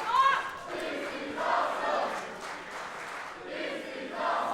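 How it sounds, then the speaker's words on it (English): A wrestling crowd cheers and roars at a women's match, swelling and falling in waves of massed voices, fairly close and continuous. "Crowd loving it."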